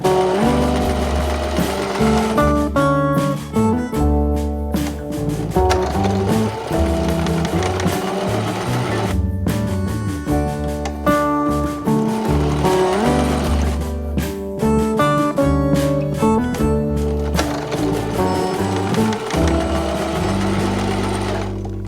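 A sewing machine stitching a patchwork quilt block whirs loudly and steadily in long runs, with a few brief pauses between seams.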